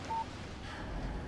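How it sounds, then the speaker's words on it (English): A short electronic phone tone sounds for a text message alert in the video game Alan Wake, one brief beep near the start, followed by quiet game background. "Text message from Barry"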